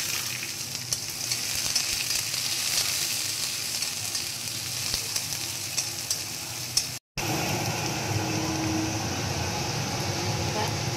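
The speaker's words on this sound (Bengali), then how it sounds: "সর্ষে ফোড়ন দিলাম, পেঁয়াজ কুচি আর রসুন কুচি দিল।" Mustard seeds, chopped onion and garlic sizzle in hot oil for egg curry, a dense steady hiss close to the pan, briefly cut out by a short gap before resuming.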